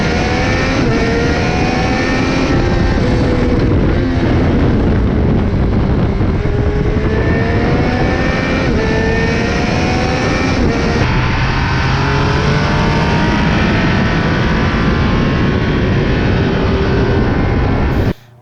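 A 2022 Triumph Speed Triple 1200 RR motorcycle engine revs hard and loud at close range, its pitch climbing and falling in long continuous sweeps with no pauses.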